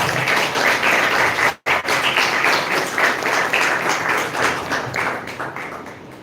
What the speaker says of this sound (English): Can we have a clap?